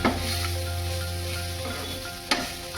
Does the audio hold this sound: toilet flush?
no